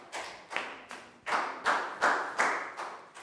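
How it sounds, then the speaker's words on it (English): A small classroom group claps for a pupil in a primary maths lesson, giving about eight sharp, evenly spaced claps in a steady rhythm. The sound is fairly close and moderately loud, with no talking over it. "Big round of applause for Pak Bung."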